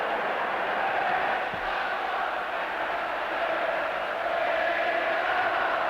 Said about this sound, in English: And the crowd know this, the buzzing